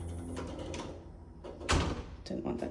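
A solid wood front door of a condo swings shut gently, ending in a soft muffled thud near the middle, with a voice in the background.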